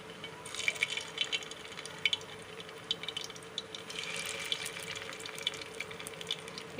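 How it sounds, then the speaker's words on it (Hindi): Gulab jamun dropped into hot ghee, sizzling and bubbling with a steady crackle and scattered small pops, fairly faint throughout. "अब जामुन शामिल कर रही हूँ इसमें।"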